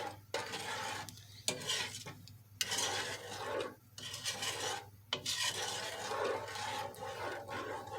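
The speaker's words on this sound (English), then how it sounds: "So we're going to just continue to stir this." Thick peanut brittle stirred in a pot on the stove, a close, loud rasping scrape repeated in steady strokes over a low hum, with short pauses between passes.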